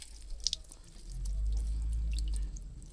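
Water rinses a motorcycle chain and ring guide during service, a short close splashing and dripping wash with a low rushing swell in the middle.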